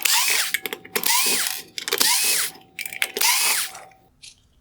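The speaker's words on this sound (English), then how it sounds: "Next, I'm going to remove 4 T10 Torx screws from the rear of the projector." Whirring power screwdriver bursts backing out four T10 Torx screws from the rear of an LED headlight projector on a 2019-2021 Infiniti QX50, four close, loud spins with brief pauses.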